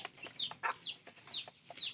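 Chickens being fed maize cluck in a farmyard, four drawn-out calls in steady succession, close and clear with short pauses between them.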